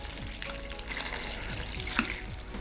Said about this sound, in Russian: заливаем все водой